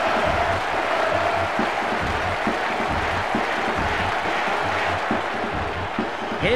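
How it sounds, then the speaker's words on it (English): A video-game stadium crowd in International Superstar Soccer 98 cheers after a goal, a dense, loud roar of cheering and applause that carries on unbroken throughout. "Listen to the crowd!"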